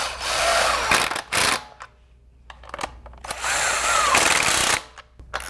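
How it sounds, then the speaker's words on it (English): An impact driver runs bolts into a motorcycle tappet block in two loud, close bursts of buzzing hammering, with short quiet gaps and small clicks between them. "I'm not running these in tight with the impact, just getting them so I don't have to turn so many times with the ratchet"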